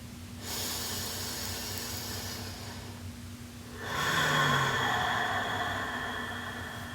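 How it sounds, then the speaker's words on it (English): Two long, loud hissing exhales of yoga ocean breath, each a steady wave-like rush of air, close to the listener with a short pause between and no talk. "finding that warm, loud, wave-like exhale"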